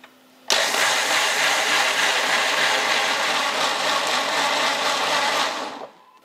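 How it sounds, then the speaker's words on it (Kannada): A kitchen mixer grinder whirs loudly as it grinds soaked rice with a little water into a fine batter, starting abruptly, running steadily for several seconds, then winding down at the end. "ಈಗ ನೀರು ಬಸದು ಮಿಕ್ಸಿ ಜಾರಿಗೆ ಹಾಕ್ಕೊಂಡು ರುಬ್ಕೋತೀನಿ ನೋಡ್ರಿ"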